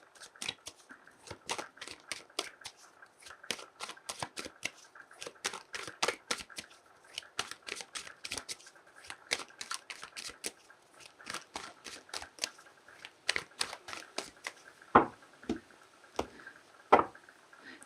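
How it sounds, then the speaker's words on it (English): Tarot cards shuffled and handled in close, rapid bursts of papery riffles and flicks with a few sharper taps near the end, quiet and with no voice. "Let's pull some more cards and see what else is coming in."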